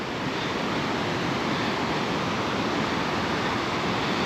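Rushing river water on the Little River Trail in an Olympic National Park rainforest, a dense, constant roar of flowing water, close and loud throughout.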